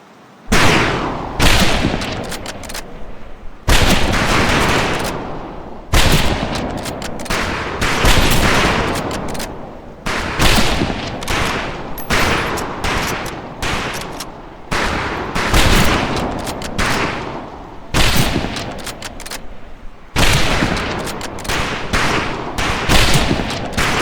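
Rifle gunfire at a firing range in the video game Medal of Honor: Pacific Assault, with loud, sharp shots cracking in rapid bursts and volleys, echoing in quick succession and broken by short pauses.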